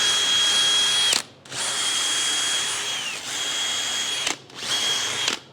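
Drill-mounted wire brush scouring a sawmill head block, a close, loud steady whine broken by three brief pauses as the drill stops and restarts, no talk.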